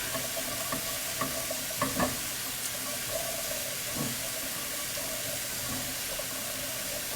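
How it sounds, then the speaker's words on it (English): Cranberries and sugar are stirred in a pot with a spatula, giving soft intermittent scraping and wet clicks over a quiet background hiss, fairly faint and without speech. "We'll just stir this up."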